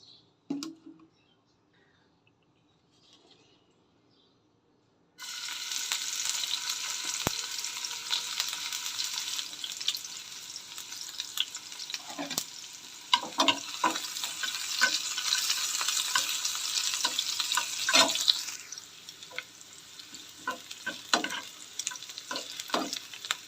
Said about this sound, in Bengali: এখানে বসায় দিচ্ছি ফ্রাই প্যান দিয়ে দেবো পরিমাণ মতো তেল